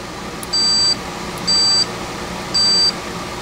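A Fluke 27 digital multimeter gives three short, clear continuity-test beeps, each lasting about a third of a second and evenly spaced, over a faint steady background hum.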